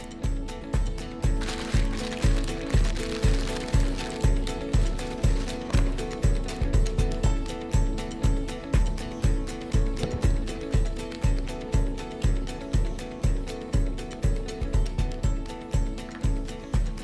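A ratchet tightens a swing arm bolt on a 1992 Suzuki RM250 under restoration, its pawl clicking in a steady rapid rhythm of repeated strokes, close and loud throughout.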